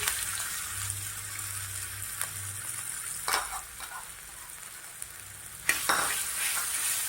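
Cumin and chili sizzle in a little oil on a griddle, a soft steady fry broken by a few scraping stirs, quiet and close, with no speech.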